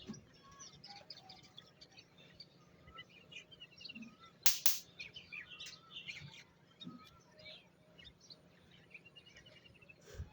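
Birds chirp and call in scattered, faint bursts beside a village riverbank among rice fields, with one sharper, louder call midway over quiet background.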